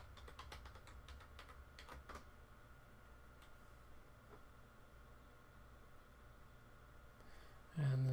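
A password is typed on a computer keyboard during setup of a Raspberry Pi, with quick, faint keystroke clicks in a brief burst, then a few scattered taps in a quiet room.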